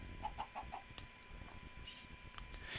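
Chickens in the Minecraft video game give a quick run of four soft, evenly spaced clucks, followed by faint scattered game sounds over a quiet background.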